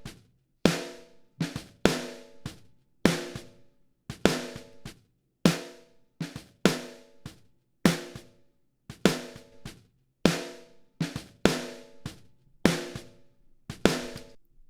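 A snare drum passed through an 1176 compressor repeats in a steady backbeat pattern of crisp hits and lighter ghost strokes, each hit ringing out with a longer sustained tail, close and isolated without talk.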